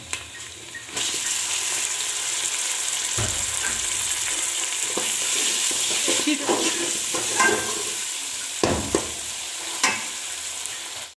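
Chopped tomatoes frying in a pan, a steady sizzle broken by several louder stirring scrapes and clatters toward the end, close and with no talk.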